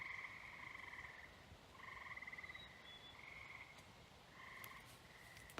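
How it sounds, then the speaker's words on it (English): A night chorus of frogs croaks in repeated pulsing bursts with brief pauses between them, close and clear over a quiet background, ending with a short knock. "We can hear the frogs mocking us."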